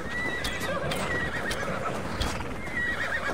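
A horse whinnies loudly in the video game Assassin's Creed Valhalla, its shrill neighs ringing over busy clip-clopping hooves and a noisy game backdrop.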